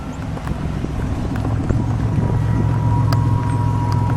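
A 1987 Buick Grand National engine idles steadily and fairly loud, a constant low rumble with a faint whine and a few light ticks, running on its own with nobody talking.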